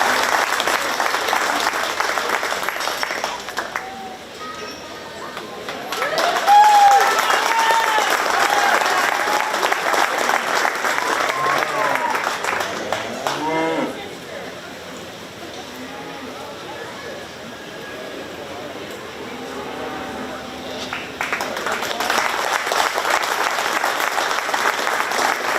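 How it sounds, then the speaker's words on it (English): Audience applause at a county fair 4-H/FFA market beef cattle show, steady clapping filling most of the stretch, swelling and easing in waves with crowd murmur and a voice on a loudspeaker between bursts. "let's give them a big round of applause"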